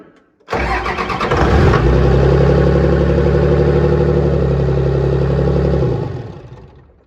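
A 24-valve Cummins diesel engine fitted with a swapped P-pump cranks briefly, then fires and roars into a loud, rumbling idle before it shuts down and fades out.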